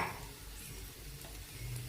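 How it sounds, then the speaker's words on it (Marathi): Fried potato pieces being stirred and sautéed in spice masala in a pan, a soft steady sizzle with scraping stirring strokes, fairly quiet and close. "आणि फोडी ह्या मसाल्यामध्ये छान अशा परतून घ्यायच्या."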